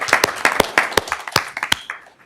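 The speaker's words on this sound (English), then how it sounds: "So if we can give him a round of applause as well, that would be great." A small audience at a school district meeting gives a round of applause, loud, uneven claps from a handful of people, thinning out toward the end.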